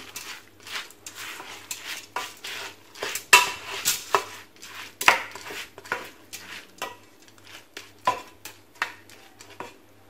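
A spoon stirs lentils with vegetables and garlic in a pot, irregular clinks and scrapes of metal against the pot with brief rustling in between, fairly close.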